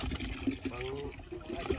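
Water gushes and gurgles from a deep hand pump at a campsite, an uneven splashing trickle close by with bubbling surges.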